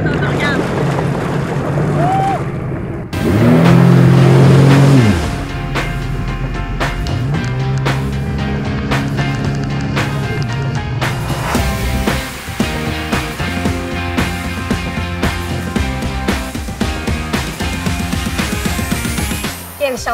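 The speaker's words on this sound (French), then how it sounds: "plein de chance de conduire ces deux motos marines" Sea-Doo Spark and RXT-X jet skis running on open water, engines droning steadily with a loud surge of throttle early on, wind buffeting the microphone and splashing water throughout.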